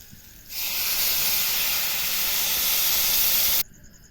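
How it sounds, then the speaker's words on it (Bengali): A loud, steady steam hiss from water poured into a hot pan of drumsticks cooking with mustard, starting abruptly and lasting about three seconds before cutting off, heard up close without talk. "এবার একটু জল দেবো"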